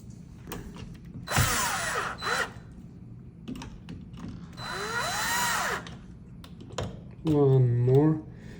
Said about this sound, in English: And we're gonna screw it first. And we're gonna use 3 screws.